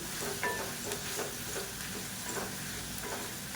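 Handful of coriander leaves lightly sautéed in a pan for a chutney, giving a soft steady sizzle with faint stirring scrapes, fairly quiet and close, no talk.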